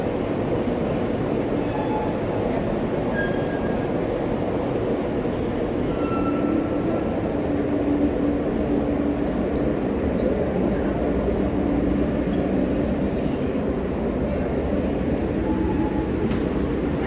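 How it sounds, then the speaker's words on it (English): A New York J subway train idles at the station, giving a steady, loud rumble and hum that stays even throughout, with faint scattered squeaks above it. "Waiting for this train to depart"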